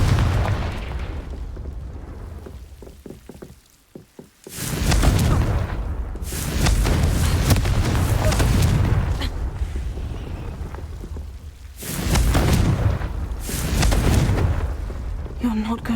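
A Confringo fire spell bursts in Hogwarts Legacy, producing long roaring explosive blasts that swell loudly, fade briefly and then erupt again.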